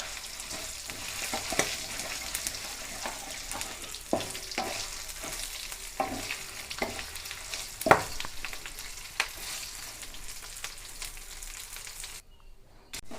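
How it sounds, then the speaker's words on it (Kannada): Chicken masala frying in a pan, a steady close sizzle with scattered crackles and pops and occasional stirring scrapes, ending in a brief quiet moment, with no one talking. "ಇದು ಕರೆಕ್ಟ್ ಫ್ರೈ ಆದಂಗೆ"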